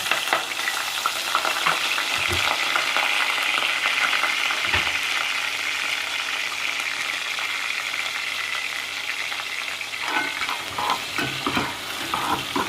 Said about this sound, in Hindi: हमारा ऑयल गर्म हो गया है। प्याज एक अदरक जो हमने काट कर रखा है वो डालेंगे।